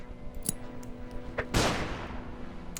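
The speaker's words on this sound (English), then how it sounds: "So I think we'll try throwing a flashbang." A flashbang grenade in the game Underrail goes off with a sudden loud burst that trails into a fading rush of noise, preceded by a couple of brief clicks.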